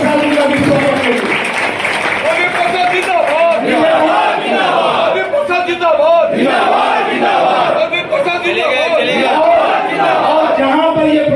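A crowd at a Congress political rally in Bengal claps and cheers loudly to welcome a guest, a dense, sustained roar of applause and shouting throughout.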